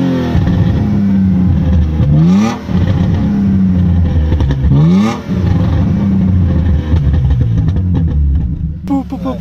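A warm BMW E36 engine idles loudly up close, then is blipped through two sharp revs that rise and fall before settling back to a throaty idle, with a voice briefly audible.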